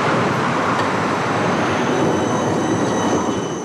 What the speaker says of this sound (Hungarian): itt 2 percenként járnak a villamosok